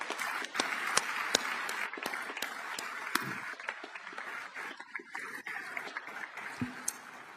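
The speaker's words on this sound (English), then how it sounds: "please, round of applause for Joe Cotton and Marcia" Audience applause at a military change of command ceremony, a steady wash of many hands clapping that fills the room, loud and sustained, slowly thinning out toward the end.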